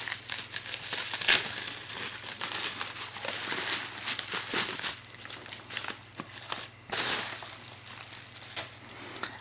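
A well-wrapped gift package being torn open, with sustained crinkling and rustling of paper and plastic, close up and busy throughout, punctuated by a few sharp tearing bursts.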